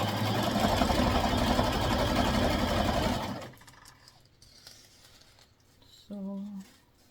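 A sewing machine stitching a tutu skirt runs in a fast, steady whir for about three seconds and then stops, leaving quiet with a few light handling noises and a short hum near the end.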